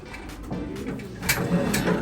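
Racing pigeons cooing as they arrive back at the home loft after a 640 km race: soft, low, rolling coos over steady outdoor background noise, close and moderately loud, with no voices.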